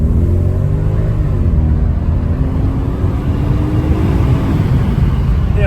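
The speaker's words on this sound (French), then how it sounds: "Et une petite accélération" An Audi RS6 ABT accelerates on the road, a loud, deep engine rumble with a rising drone as the car gathers speed, heard close from inside the vehicle.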